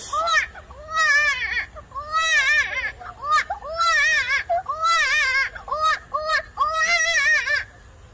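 Someone imitates a crying baby with a run of loud, close wails and sobbing cries in short bursts, pausing briefly between them.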